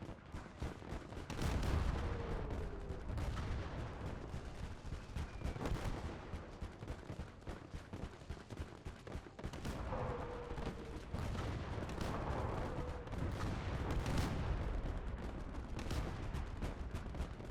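Tank battle in the video game Indomitus 40K Conquest, with repeated heavy cannon blasts and rattling gunfire, booming shots spaced every few seconds over rumbling engine and battlefield noise, loud and continuous.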